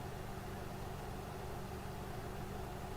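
A truck engine idles in a trucking video game, a steady low rumble that runs unchanged for the whole stretch, fairly quiet with no voices over it.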